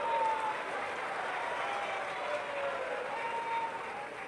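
Sustained applause from a large crowd fills an outdoor memorial inauguration ceremony in Bahraich for Maharaja Suheldev, a steady, dense wash of clapping at moderate distance without a break.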